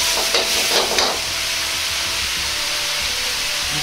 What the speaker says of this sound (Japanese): 長ネギを入れます